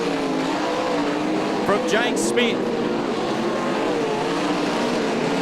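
Sprint cars race around a speedway, a steady roar of several engines throughout, with a commentator talking briefly over the noise midway.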